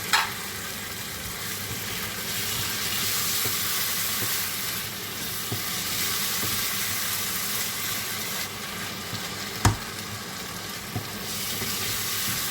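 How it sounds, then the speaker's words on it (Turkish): Tomato paste thinned with hot water poured into frying minced meat, a steady close sizzle with a few sharp clicks and clinks from the pan along the way. "şimdi salçanın altı dibinde kalanı da sıcak suyla karıştırdım. Onu da ekliyorum"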